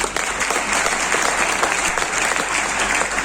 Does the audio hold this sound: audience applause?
yes